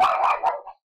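A dog gives a brief, excited burst of two or three close yipping barks indoors, over in under a second.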